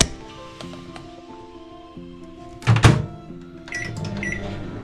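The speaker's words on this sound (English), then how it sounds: "I'm just going to do it in the microwave" Low steady hum of a microwave oven running while melting chocolate, with a few clicks and a short clattering knock partway through.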